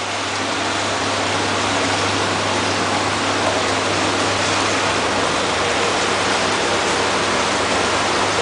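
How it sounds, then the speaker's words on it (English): Waterfall water outlet of a luxury whirlpool bath running, a loud, even rush of falling water that stays constant throughout with no pauses and no voices. "Water outlet waterfall."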